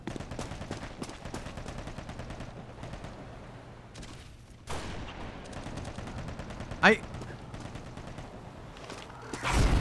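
Gunshots from Half-Life 2 crackle through game ambience, a rapid run of close, repeated shots early on, then scattered bursts and a loud blast near the end.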